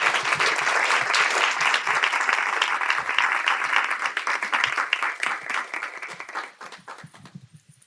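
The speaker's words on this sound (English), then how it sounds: "Remember, big welcome, applause." A nonprofit conference audience of about sixty people applauds as panelists come to the stage, a dense, steady round of clapping that holds strongly before thinning and fading out near the end.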